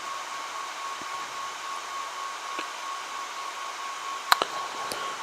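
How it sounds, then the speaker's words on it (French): Cooling fans on an ACTIA AT605 microcontroller board setup whirring into a steady broadband rush, with a few brief clicks and taps near the end and no talking. "je démarre mes ventilateurs et ensuite je peux réaliser l'opération"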